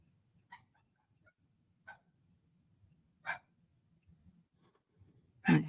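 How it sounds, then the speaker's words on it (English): A dog barks happily several times indoors, a few short sharp yips spaced out over quiet background, ending in a louder bark, heard faint and somewhat distant. "You probably hear the dog"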